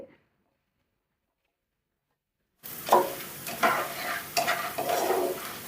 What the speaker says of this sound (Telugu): మన ధనియాలు మన ఎండుమిర్చి చక్కగా వేగేంత వరకు వేపుకుందాం